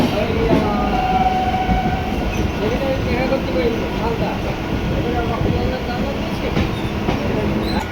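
A Kolkata local train passes under Howrah Bridge with a loud, steady rumble and a clatter of wheels on rails, heard from inside the carriage with voices faint in the background.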